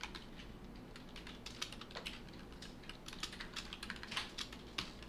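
Someone types on a computer keyboard. A steady patter of quiet keystrokes continues without pause, faint and close, with no speech.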